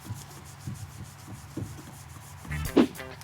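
A cloth rubs metal polish by hand onto a car exhaust, making soft rhythmic swishing strokes close up, with a louder scrubbing pass near the end.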